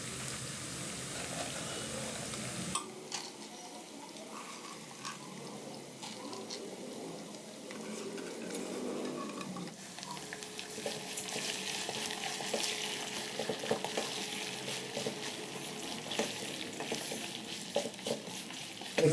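Drained lentils fried and stirred together with rice in a single pot for koshari, with steady close sizzling and scraping stir strokes throughout, with no talk.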